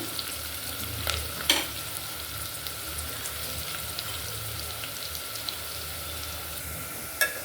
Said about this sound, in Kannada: ಈಗ ಚೆನ್ನಾಗಿ ನಾವು ಇದ ಫ್ರೈ ಮಾಡಿದ್ದೀವಿ